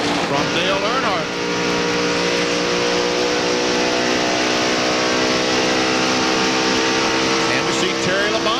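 A pack of NASCAR Winston Cup stock cars racing at Atlanta Motor Speedway, with a loud, sustained engine roar and overlapping passing engine tones throughout, and a race commentator talking over the noise.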